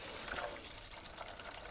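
Home-brewed beer wort pours into a Fermzilla fermenter, a soft continuous gushing splash of liquid heard close but fairly quiet, without any voices.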